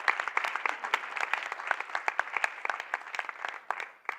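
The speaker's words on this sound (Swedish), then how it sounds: "En rungande applåd." Applause from a small audience at a talk on prize competitions as a driver of innovation, with distinct individual claps forming a steady patter that thins toward the end.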